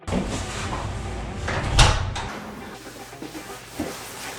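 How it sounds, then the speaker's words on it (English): A separate basement entrance door of a walkout basement house in Toronto is opened, giving one short clunk and rattle up close before settling into quieter room noise, with no talking. "So I just open this door and here I enter my house."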